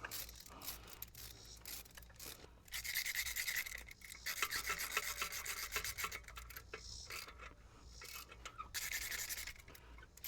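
A hand ratchet works catalytic converter bolts on a 2007 Kia Spectra, giving repeated bursts of rapid rasping clicks at close range with short pauses between strokes.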